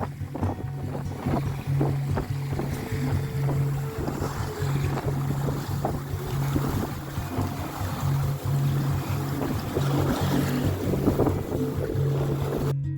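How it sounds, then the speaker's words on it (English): A sailboat under way in strong wind: steady roaring wind and water rush with repeated sloshing and knocking, a buzzing hum pulsing on and off beneath, continuous and close. "You could definitely feel those stronger winds as we left the bay, but we made good time over to Cowell"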